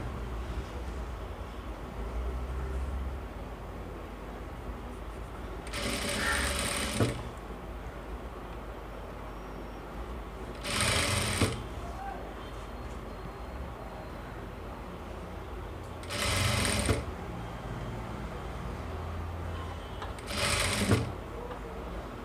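A sewing machine stitches a frock for a three-year-old child in four short whirring runs spread across a tailoring lesson, with quieter pauses and a faint background hum in between.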